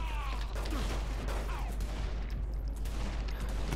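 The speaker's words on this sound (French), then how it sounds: "C'est qui me tire dessus?" Gunfire rattles through a Saints Row The Third fight, a continuous dense fusillade under a thick low rumble of in-game noise, with no clear separate shots.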